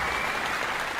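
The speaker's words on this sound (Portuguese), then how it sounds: "merece uma salva de palmas" Steady dense applause from many hands, a continuous even wash of clapping that fills the whole moment without pauses or voices.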